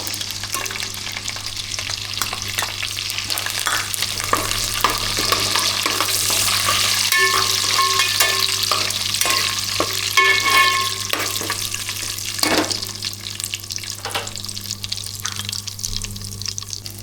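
Cumin seeds and whole garam masala crackle and sizzle in hot oil alongside curry leaves, a loud, close, continuous frying hiss with scattered pops and occasional stirring knocks, no voices.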